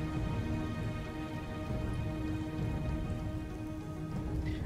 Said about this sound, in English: Oh, the acid rain.